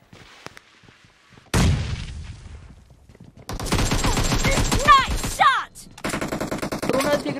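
A video game team deathmatch fills with loud bursts of rapid automatic gunfire, in two long stretches broken by brief pauses, after a quieter opening with a single heavy blast.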